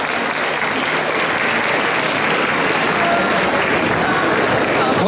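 Steady, loud applause from an audience at a manga and gaming convention's solo cosplay prize-giving fills the whole stretch, a dense continuous clatter of many hands.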